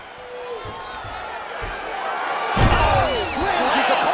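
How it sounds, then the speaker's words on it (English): In the EA Sports UFC 3 video game, a fighter slams an opponent to the mat, making a heavy thud amid crowd noise while a commentator talks. "Oh, he slams his opponent down."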